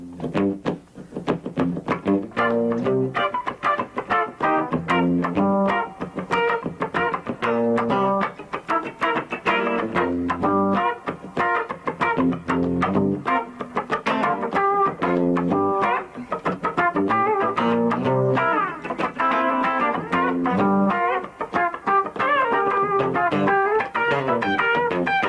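Two guitars locked in a tight funk rhythm, one voiced high on the neck and one low, trading choppy, busy strums with dense, continuous attacks throughout, played loud and close with no talking.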